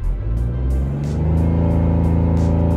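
Toyota GR Yaris facelift engine revving hard from a launch control start, a loud, close, sustained rising drone with steady harmonics and no talking.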